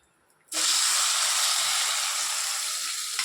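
Onions and tomatoes drop into a hot pan with oil and burst into a loud, steady sizzle that hisses evenly for several seconds, close by.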